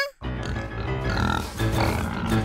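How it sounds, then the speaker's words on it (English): Cartoon pigs grunt and oink on a railway track in a children's animated train show, a close run of snorts over music and bustle lasting a couple of seconds. "Oh no, there are pigs on the track!"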